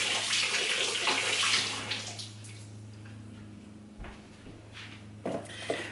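Strawberries rinsed under a running tap, a loud broadband water rush that fades to a steadier trickle with a low electrical hum and a few brief clatters, no voices.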